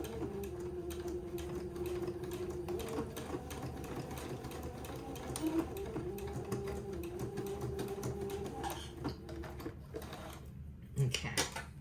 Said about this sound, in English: with my sewing machine, tack that elastic in place where I first started feeding it in